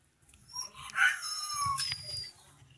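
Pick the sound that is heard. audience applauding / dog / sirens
dog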